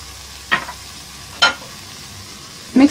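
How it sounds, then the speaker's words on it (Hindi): Three short, separate scraping strokes, close by and fairly quiet, as a spoon stirs cocoa powder into a doda barfi mixture in a pan, with near-silence between strokes. "मिक्स करेंगे अच्छे तरीके से।"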